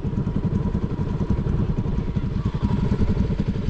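A motorcycle engine idles steadily and close by with a continuous low rumble and light clatter throughout, heard outdoors in Assam.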